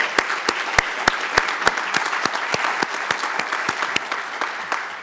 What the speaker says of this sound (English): We have to give another applause to Dr.